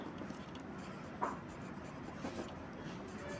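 Soft, close pencil scratching and small strokes as a label is written on a technical drawing with auxiliary projection, faint under a quiet room hiss.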